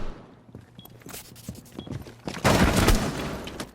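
Gunfire in a tryout scrim match of a competitive shooter, with scattered single shots and short bursts early, then a dense, loud volley near the end, close and sharp.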